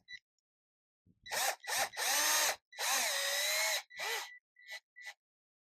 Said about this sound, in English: and then I just screw it in